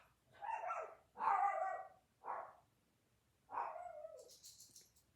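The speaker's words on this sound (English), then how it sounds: "Why are you guys barking?" Dogs bark indoors in several short, fairly faint bursts, with gaps of quiet between them and no talk over the barks.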